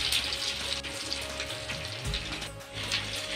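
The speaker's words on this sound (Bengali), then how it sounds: "এখন আমি এ পিঠও ভেজে নেব।" Crab brain chops fry in oil with a continuous close, loud sizzling hiss.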